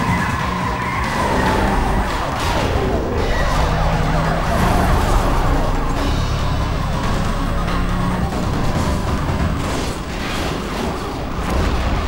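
Police car sirens wail through a chase in the Need For Speed Most Wanted video game, continuous and loud over roaring engines and tire noise, with no talking.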